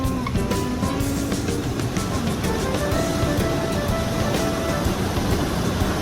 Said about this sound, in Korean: 파도가 여기까지 올라와요